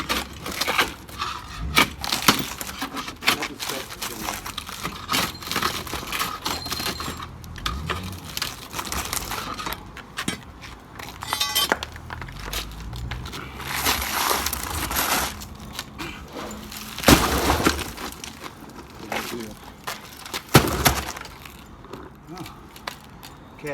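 Heavy sledgehammer blows strike a found metal safe to break it open, irregular loud thuds and crunching impacts spread across the clip with brief pauses, a voice talking intermittently between hits.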